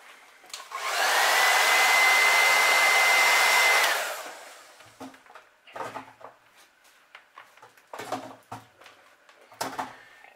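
A heat gun heat-sets fresh paint on a crankbait lure, roaring steadily for about three seconds before cutting off, followed by scattered light clicks and handling noises.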